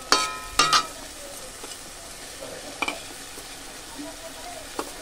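Tomato and egg bhujia fries in a pan with a soft continuous sizzle, broken near the start by a few sharp clinks and scrapes of a utensil, then a couple of lighter taps later on.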